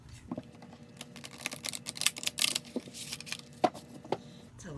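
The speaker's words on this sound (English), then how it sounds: "let's shuffle our 52 cards" A deck of 52 oversized color meditation art prompt cards being shuffled, giving rapid papery flutters and soft slaps in irregular bursts, fairly close and moderately quiet.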